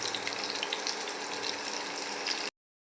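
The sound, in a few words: cumin, onion and green chilli frying in pan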